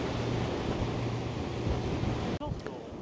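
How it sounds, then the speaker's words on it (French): Strong wind buffets the microphone at the seaside near oyster beds at Soulac, a loud continuous rumbling roar with waves and boat noise underneath, briefly cutting out near the end. "Oh le vent!"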